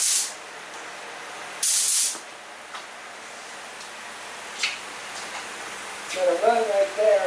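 A second coat of spray paint goes on in two short, loud hissing bursts separated by quiet, and a voice speaks briefly at the end.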